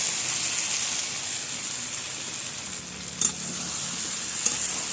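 Young jackfruit stir-fries in a cooked-down spice paste with a steady, close sizzle and crackle. A couple of brief scrapes or knocks of a stirring utensil break through, with no talk.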